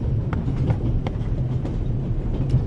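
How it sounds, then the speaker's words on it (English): Steady rumble of a train carriage on the Orient Express in The Raven game, a low continuous rolling drone with faint rhythmic clicks of wheels over rail joints throughout. "The noise on this train is driving me crazy."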